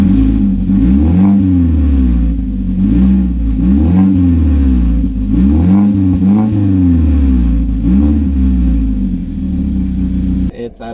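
A car engine revs repeatedly through its exhaust, loud and close, with rhythmic low surges climbing and falling over a steady drone for about eleven seconds.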